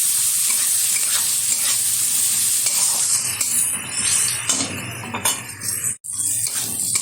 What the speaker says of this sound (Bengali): পেঁয়াজটা ভালোভাবে ভেজে নিয়েছি।